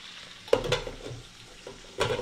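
Green tomatoes fry in a pan with a soft steady sizzle, broken by a few sharp stirring and utensil clatters against the pan; fairly quiet and close, with no voices.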